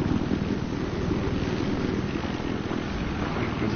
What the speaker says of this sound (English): There's the other helicopter.